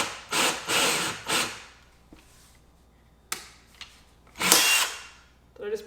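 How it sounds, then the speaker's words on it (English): A handheld power drill bores a hole during a kitchen renovation, with the bit breaking off inside. Several short, loud whirring bursts are separated by pauses and small clicks and knocks. "Just broke off the drill bit inside the hole."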